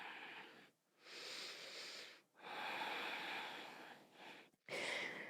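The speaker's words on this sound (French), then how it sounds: "Quelques respirations dans ce twist." Slow, audible breaths drawn in and let out during a seated yoga twist, several long airy inhales and exhales separated by brief pauses, close and soft.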